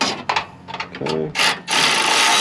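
Bolts being driven into a Honda headlight bracket, a run of short ratcheting and whirring bursts with a brief buzzing stretch, close and busy, ending in a sustained rough mechanical whir.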